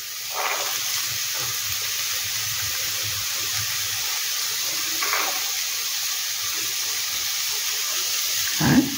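Sliced carrots tossed into a hot pan for a Chinese veg manchurian soup give a steady hiss and sizzle throughout, with a few soft clatters near the start and a louder scrape at the very end.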